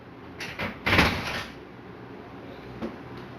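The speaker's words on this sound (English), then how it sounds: "Bang, bang on the door." A dog bangs against a door on a sunny afternoon, giving a few soft knocks and then one louder thud-rattle near the middle, followed by a faint later tap, close by and with no talk.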